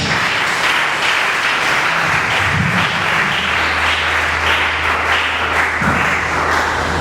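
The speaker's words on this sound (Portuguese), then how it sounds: "Bate palma para Jesus." A church congregation in Angola claps hands together at a worship gathering, loud, continuous and dense, with a low droning tone entering partway through and no break in the clapping.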